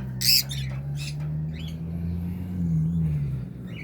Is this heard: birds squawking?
yes